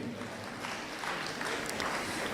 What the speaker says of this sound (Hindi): सबसे निवेदन है एक बार जोरदार तालियां होनी चाहिए इनके लिए।